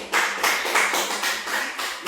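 A classroom claps for a student, with rapid, dense clapping from a group. It is fairly loud and close, lasts a couple of seconds and has no talk over it.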